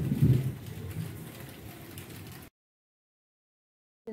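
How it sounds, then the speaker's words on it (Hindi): Steady morning rain pours down as a dense, close hiss for about two and a half seconds, then cuts to silence before briefly returning at the very end. "ये देखिए जी, सुबह से बारिश हो रही है।"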